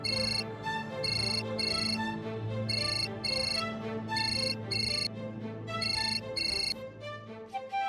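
A telephone ringing with repeated electronic ringtone bursts in an irregular pattern, clear and fairly close over a low background hum, heard while a call is being placed.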